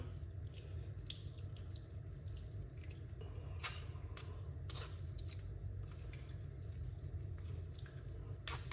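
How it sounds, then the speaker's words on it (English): Liquid from a blended mixture is squeezed through a strainer, giving a faint steady trickle and dripping with small squishy sounds over a constant low background hum. "Squeeze out the liquid out of it like this."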